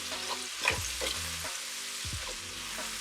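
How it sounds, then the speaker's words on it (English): Onions with salt sizzle softly in a pan while a spoon stirs them, giving a low steady frying hiss with a few scraping strokes, quiet and close. "a little bit of salt, give it a stir"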